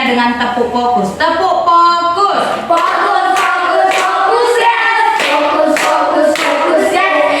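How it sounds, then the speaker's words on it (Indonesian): A classroom of students clap together in a rhythmic focus-clap pattern, loud and close, with sharp repeated hand strikes mixed with chanted voices. "Dengan tepuk fokus ya."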